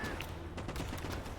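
Gunfire rattles in a dense battlefield of Gates of Hell: Ostfront, quick overlapping shots at mid distance with a dull rumbling bed beneath them.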